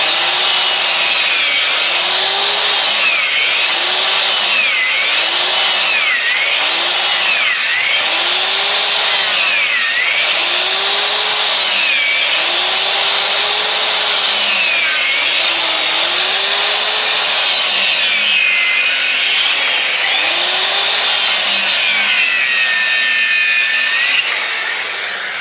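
A power saw rips repeated cuts through a timber beam to break out a half lap joint, each pass a loud rising and falling whine, the cuts cycling rhythmically and close by with no talk.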